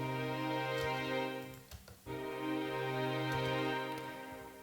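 Future bass string section washed in Valhalla VintageVerb at a 45% mix, sustained wide chords sitting back in the mix, with a brief dip near the middle before the sustained texture returns.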